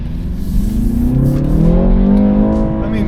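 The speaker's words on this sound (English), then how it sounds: "you do have fake engine noise" A 2025 BMW 330i accelerating hard in Sport Plus mode, its synthetic engine sound piped into the cabin, rising steadily in pitch through the gears with a continuous loud drone and a brief shift dip, faint talk underneath.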